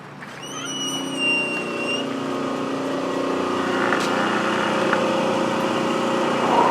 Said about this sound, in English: We've got a noisy phase converter.